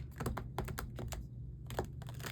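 A deck of tarot cards shuffled fast and roughly, giving bursts of crisp, rapid flicking clicks that come in clustered runs with brief pauses between them, close and fairly quiet.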